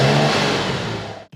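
A 1959 Maserati 3500 GT with a Touring body and race-derived mechanicals revs hard nearby, a loud, rising engine roar that holds briefly before cutting off abruptly.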